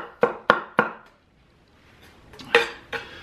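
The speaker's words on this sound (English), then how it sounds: "So, again, we'll do a rough chop on the onions." Onions being roughly chopped with a 6.7-inch Serbian chef knife cleaver, three sharp evenly spaced knocks on the cutting board, a short pause, then two more chops, close and clear with no talking.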